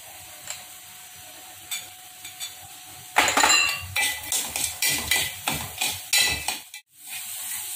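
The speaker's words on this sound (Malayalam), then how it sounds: "തേങ്ങ ഇപ്പൊ ഏകദേശം മൂത്തിട്ടുണ്ട്." Grated coconut roasts with cashews and raisins in a pan, with a spoon stirring and scraping in a run of rhythmic clinks and soft sizzles, quiet at first and then steady and close.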